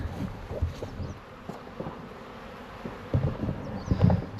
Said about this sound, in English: Very busy bees at that.